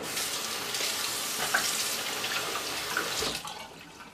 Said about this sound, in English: I go rinse my hands off